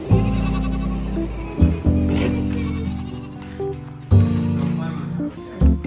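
Goats bleat repeatedly inside a barn holding hay, several loud close calls in quick succession with brief pauses between them, plus a bit of background talk.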